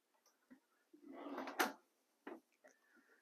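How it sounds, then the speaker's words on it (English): A soft-close hardwood drawer shuts inside an RV with a muted slide and a light thump, then a few small taps and clicks follow in a quiet room. "They have the soft close drawers."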